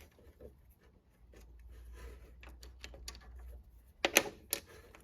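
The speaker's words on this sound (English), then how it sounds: "So we're going to take this little nut off." Small metallic clicks and scraping from loosening a little nut on a gear of a Clark CL500 lathe, quiet handling that builds to a couple of sharper ratcheting clicks near the end.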